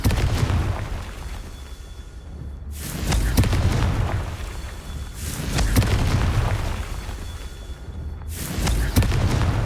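Confringo fire spell blasts in the video game Hogwarts Legacy, three loud booming bursts spaced a few seconds apart, each with a short rumbling tail and no talk.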